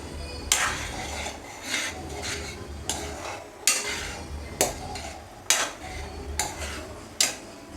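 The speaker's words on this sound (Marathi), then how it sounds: "ॲड करून जरा ते मी हलवून घेतो" Garam masala being stirred into drumstick (shevaga) vegetable curry in a pan, with a spoon scraping and clinking against the metal in a series of sharp, evenly spaced strokes over a faint background hum.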